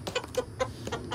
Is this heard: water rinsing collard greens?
no